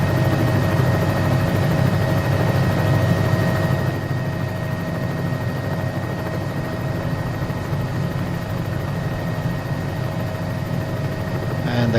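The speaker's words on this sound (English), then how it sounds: "the quick stop, that's basically just slowing down the helicopter without climbing" Simulated Cowan 206 helicopter in a quick stop, its loud, steady rotor and turbine drone running continuously, then dropping slightly in level partway through as it slows.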